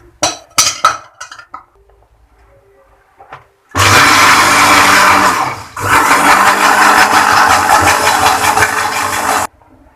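An electric mixer whirs loudly into cake batter with sugar for an apple tart, starting after a few light clinks of bowl and utensils, running in two long steady bursts with a brief pause between, close and without speech.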